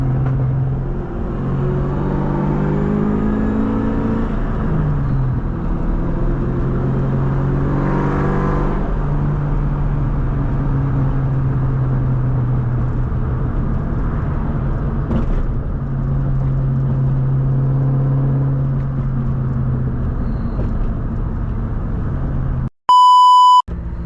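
A 504hp Ford Cobra Terminator with a bolt-on exhaust, a steady low engine drone that swells as it revs, loud and close throughout, ending on a sharp electronic beep.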